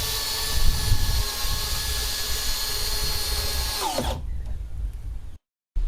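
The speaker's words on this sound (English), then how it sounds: "I'll probably whack some Simpson screws through here," A cordless power driver sinks 8-inch Simpson structural screws into timber framing, giving a steady, loud whine for about four seconds before it winds down and stops.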